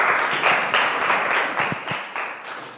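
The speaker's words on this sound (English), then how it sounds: "Okay, clap for Benny." Classroom pupils clap for Benny, a burst of brisk, fairly near applause with uneven rhythm that tapers off over a few seconds.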